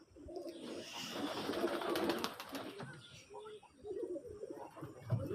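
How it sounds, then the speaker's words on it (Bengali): Pigeons in a home loft, including a red pair and moulting birds, giving low soft coos and murmurs at close range amid faint chirps and some background voices. "দেখেন ঘরের কবুতরগুলি"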